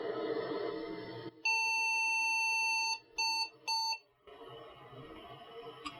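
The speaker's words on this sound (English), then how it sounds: "Now there's probably going to be some beeps just because there's no keyboard connected." An IBM 5150 PC with no keyboard or video card sounds through its internal speaker: one long steady beep, then two short beeps, clear and shrill against a faint background hum.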